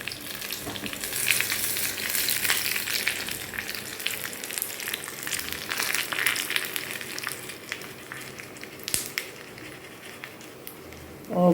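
Curry leaves and dried chillies fry in hot oil for a Tamil chutney, a continuous close crackling sizzle with bright pops, steady throughout and fading slightly near the end.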